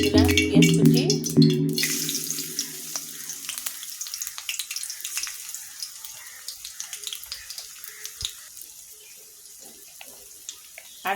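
Chopped onion hits hot oil in a pan over low-medium heat, starting with a burst of spitting that settles into a busy, crackling sizzle, heard up close and alone.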